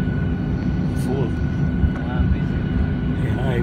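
Airliner engines roar steadily in the cabin during departure, a constant loud rumble with a faint whine above it, while passengers talk quietly underneath.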